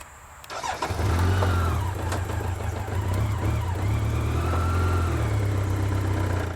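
A trike's engine cranks and catches, then settles into a steady, loud, low idle rumble that continues close by, with no talking.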